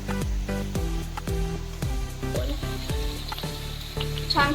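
Spinach puris deep-frying in hot oil, giving a steady sizzle under a tonal musical background with repeated gliding notes.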